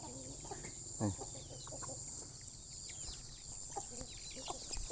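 Chickens cluck softly at a farm where cattle are kept, with short scattered calls over a steady hum of insects and background noise, and no talking.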